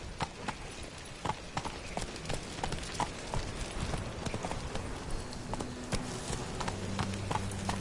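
Video-game horse galloping in a steady clip-clop rhythm of hoof beats, fairly close and continuous, with game music and ambience running underneath.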